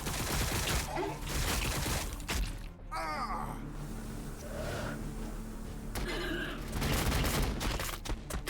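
Sustained gunfire rattles across a Warhammer 40k Battlesector battlefield, a thick continuous fusillade with occasional louder bursts and game voices breaking through.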